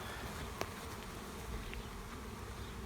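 Honeybees buzz in a steady, low, continuous drone throughout a beehive inspection, with a brief faint click partway through and no talking.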